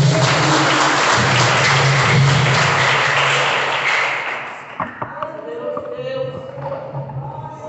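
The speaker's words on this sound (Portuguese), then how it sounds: "E as palmas agradecem ao Senhor." A congregation applauds in church, the clapping loud and dense for about four seconds before it fades, followed by a few scattered thumps and a voice beginning to speak.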